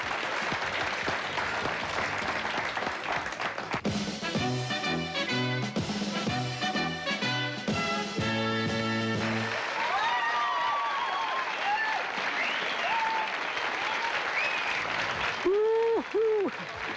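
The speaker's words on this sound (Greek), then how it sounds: "Μπράβο, χειροκροτήστε το φίλο μου, το Μακεδόνα." Studio audience on a 1995 Greek television comedy show applauds steadily, a dense sustained wash of clapping with music and other sounds mixed in partway.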